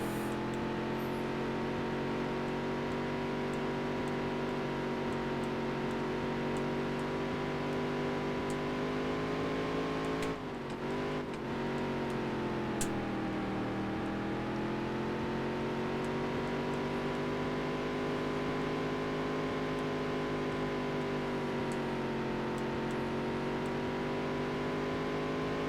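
Race car engine in the Dirt to Daytona video game holding a loud, sustained drone with a brief dip and gear change partway through, then climbing again, close and continuous.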